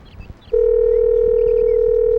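A phone call rings out unanswered and never reaches voicemail: a brief rustle, then a loud, steady ringback tone that holds unbroken to the end.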